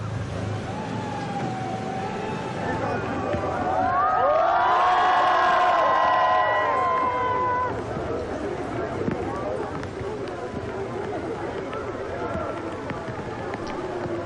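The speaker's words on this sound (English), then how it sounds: "we can hear, if you are following us on radio, the crowds there shouting their welcome to Pope Francis." Crowds greet Pope Francis in Luxembourg with a sustained wash of cheering and shouting, swelling loudest in the middle stretch while whistles and a siren-like wail rise above the din, then settling back to a steady murmur.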